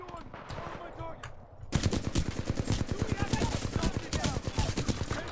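Sustained automatic fire from an R201 assault rifle in Titanfall 2 starts abruptly and rattles on in a fast, even stream of loud, close shots. Quieter game sound comes before it.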